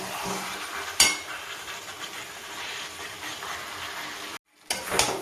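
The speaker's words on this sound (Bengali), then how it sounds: "খুব ভালো করে এটাকে কষবো" Chicken sautéing in a pan gives a steady broadband sizzle, broken by a sharp metal clank of the stirring utensil at the start and another scrape near the end, after a brief silent gap.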